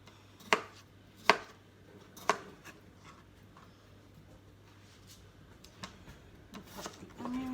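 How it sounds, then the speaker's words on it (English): A knife chopping onions on a board, a few sharp distinct cuts early on, then softer scattered taps in a quiet room. "Cut the onions."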